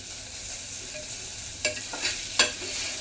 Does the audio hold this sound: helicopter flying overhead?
no